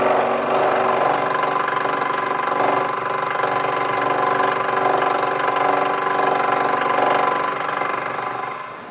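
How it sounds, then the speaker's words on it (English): A milling machine cuts a slot with a ball nose cutter, producing a steady, close mechanical drone with a constant motor hum throughout, tapering slightly at the end. "I've just switched to a ball nose cutter to give me a little bit of a rounded profile to the slot."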